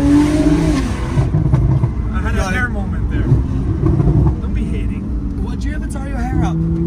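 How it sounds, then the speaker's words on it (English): A 750hp Porsche Turbo S driven on the road, its engine droning loudly from close inside the cabin, with scattered sharp exhaust crackles and pops; people talk over much of it. "So the pops and bangs. How come it's doing so many of that?"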